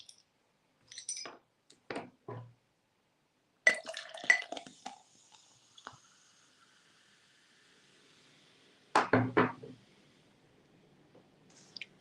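Beer poured into a glass at a snack bar in Düsseldorf, heard as scattered clinks and splashy gurgling bursts separated by quiet gaps, close and fairly soft, with a longer fizzing pour in the middle.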